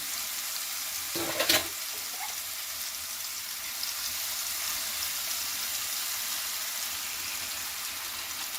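A pumpkin mixture in a pan over low heat gives a steady, soft sizzle, with a brief burst of scraping and stirring early on before settling into an even, quiet frying hiss.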